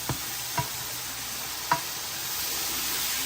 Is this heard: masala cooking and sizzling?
yes